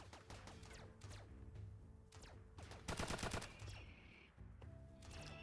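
Turrets in RimWorld firing at robots, rapid bursts of machine-gun-style shots in quick rattling volleys, close and continuous with short gaps between salvos.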